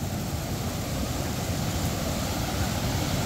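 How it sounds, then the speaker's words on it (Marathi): A small stream swollen by heavy rain rushes with force, giving a steady, dense roar of flowing water that stays loud and unbroken throughout, with no voices. "छोटासाच ओढा आहे, पण ओढ्याला एवढा फोर्स आहे"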